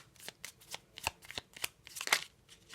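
Tarot cards being shuffled and drawn, a series of soft, crisp riffling and sliding bursts up close, quiet and irregular, with no talking.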